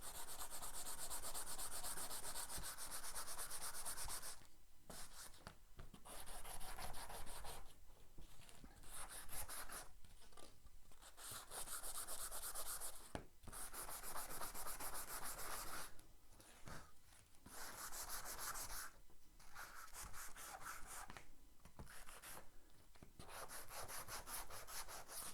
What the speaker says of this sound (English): Nice rough and ready sanding block.